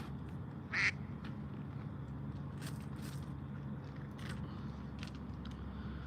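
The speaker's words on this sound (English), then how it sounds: "You hear the duck, don't you? That duck thinks I've got something for him." A duck near a bridge by the water lets out one short, clear quack early on, over a constant low rumble of outdoor background noise and a few faint clicks.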